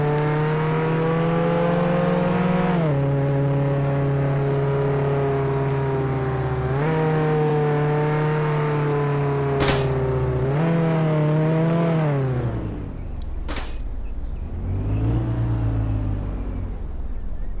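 Car driving in a video game, a continuous synthetic engine whine with rising revs that drop at each gear shift, close and loud throughout with no one talking.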